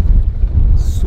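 Strong wind buffets the microphone outdoors on arrival in the Maldives, a loud, low rumbling roar through the whole short moment, with no clear speech.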